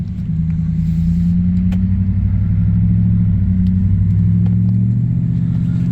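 Steady low road rumble and engine drone from a car cruising at 35 mph with the windows down, continuous and fairly loud, with faint ticks and no voices.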